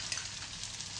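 Masala fries in a pan with a dense, steady sizzle, close and continuous with faint crackles, heard alone.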